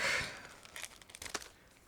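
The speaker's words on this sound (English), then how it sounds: "Next, I'm opening another plastic bag." Crinkly plastic parts bag from a 1/72 scale M142 HIMARS model kit rustles and tears close by, starting with a loud rip and followed by softer crackling handling noises.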